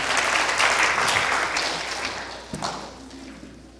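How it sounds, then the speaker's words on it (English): Congregation applauding after baptisms at a Sunday church service, a dense wash of many hands clapping that starts loud and gradually fades over a few seconds, with a brief swell near the end. "Another round of applause."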